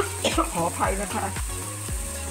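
Thai curry paste stir-fried in a pan, with a steady sizzle and a few spatula scrapes and stirs close by.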